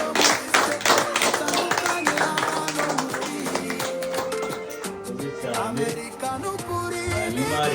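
People at a Christmas gathering of a Rwandan community in Kentucky and Tennessee clap their hands in a steady rhythm, mixed with tonal singing or music that carries on throughout.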